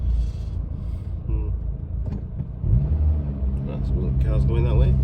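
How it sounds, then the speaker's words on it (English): Road traffic rumbles past steadily, car engines low and continuous with a vehicle accelerating nearby, under people talking inside a car. "No, it's just the traffic."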